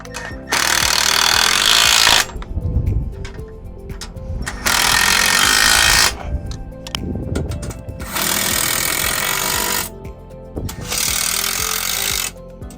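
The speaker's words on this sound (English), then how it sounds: "now we just need to go through and tighten up all 4 bolts" A power tool tightening the stabilizer bolts on RV scissor jacks, running in four loud, steady bursts of about two seconds each, separated by short pauses and clanks.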